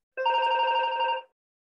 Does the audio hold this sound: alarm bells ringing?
yes